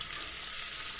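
Garlic frying in a pan, a brief close, even sizzle with no voices.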